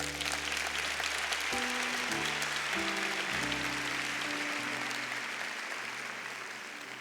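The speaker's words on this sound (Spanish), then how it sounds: "Un aplauso." A church congregation applauds steadily and fairly loudly for several seconds while low sustained tones play underneath, fading slightly at the close.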